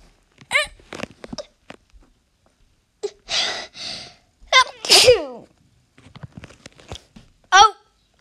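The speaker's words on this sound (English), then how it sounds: "Hold on, I got a sneeze." A person with hay fever sneezes twice, sharp and close, between bursts of other vocal sounds and breathy noises, with quiet gaps in between.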